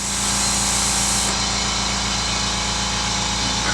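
A homemade sandblasting cabinet is switched on and runs loud and steady nearby, with a constant hiss over a rhythmic, pulsing mechanical drone.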